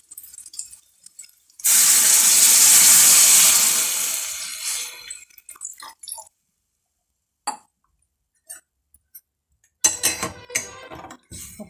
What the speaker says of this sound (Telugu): ఇప్పుడు మనం దాంట్లో వాటర్ పోసుకుందాం.